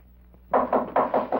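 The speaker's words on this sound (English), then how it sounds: "I think El Toro's at the back door." Knocking on a back door in an old radio drama: five firm, evenly spaced raps on wood after a moment of quiet, close and clear.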